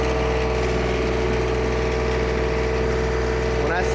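A TYM 2515 25HP tractor engine runs steadily with a constant droning hum and a strong low tone while tilling, close and loud, with a brief clattering change near the end.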